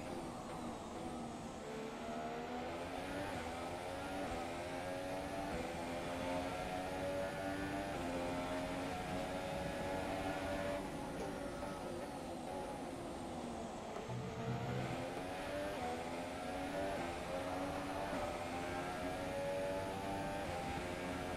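Formula 1 car engines racing at the Australian circuit in the F1 2017 video game: a sustained high-revving engine whine with rising and falling pitch as the cars shift gears, steady and moderately quiet.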